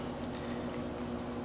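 Wet, steeped tea bags squeezed by hand while brewing strong tea for kombucha, a soft continuous squish with faint dripping up close and no talking.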